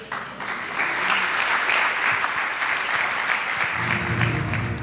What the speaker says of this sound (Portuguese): Quem pode dar mais um aplauso ao Senhor nessa noite?